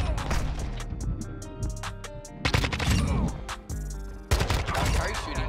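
Heavy automatic gunfire in Modern Warfare 2, loud bursts of rapid shots that stop and start, with brief gaps between strings of fire.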